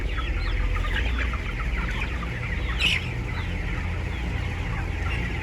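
Broiler chickens in a crowded poultry house give a steady, dense chorus of clucks and chatter, with one brief louder squawk near the middle and a constant low ventilation hum underneath.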